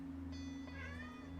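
A single quiet cat meow rises and falls over a steady low electrical hum.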